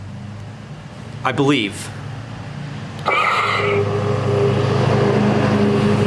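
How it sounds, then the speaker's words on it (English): Trucks pass on a road outside, heard as a broad rushing rumble that swells midway and stays loud while a person speaks nearby. "Sorry for the trucks. I'm outside doing this."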